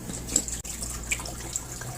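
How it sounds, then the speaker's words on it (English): Water poured into a Comfee portable dishwasher, a steady close splashing and trickling stream with brief small plinks, no talk. "I'll show you how to load it with water"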